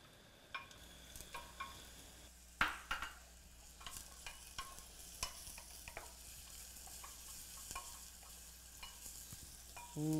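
Two cloves of finely chopped garlic fry in a pan, a soft continuous sizzle under scattered scrapes and taps of a stirring utensil, fairly quiet and close, with no voices.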